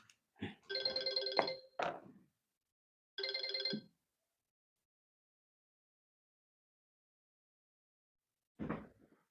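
A phone rings with an incoming call: a tonal ringtone sounds in two bursts, the first longer, against a quiet room. A dull thump follows several seconds later.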